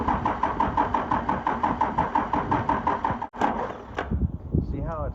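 An old Dodge that sat forgotten in a field for over twelve years, its engine cranking in a steady rapid rhythmic chug without catching, then stopping with a clunk before faint talk.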